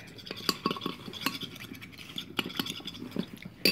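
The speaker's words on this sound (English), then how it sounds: "stir it" A spoon stirring a homemade sleeping-potion cure mixture in a container, soft close scrapes and light clinks in an irregular rhythm, fairly quiet.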